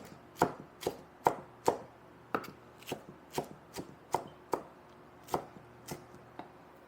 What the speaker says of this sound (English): I got me some lettuce here that I want to chop up a little bit